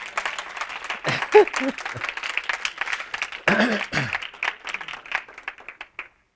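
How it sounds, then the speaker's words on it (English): A small group claps and cheers for a few seconds while voices chatter and call out over the clapping. "Applause for my team."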